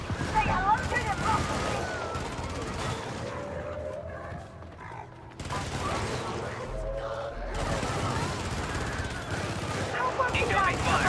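Dense gunfire and bursts of automatic weapons crackle through a Helldivers 2 firefight, loud and continuous with a brief lull midway, while a voice speaks over the shooting.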